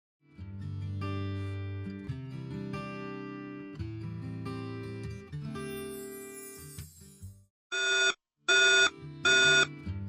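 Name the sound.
controller alarm beeping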